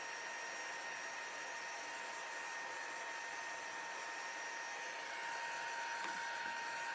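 A hair dryer blows steadily on chalk craft paint, a continuous close whooshing whine with a constant hum that holds level for the whole stretch, no talking.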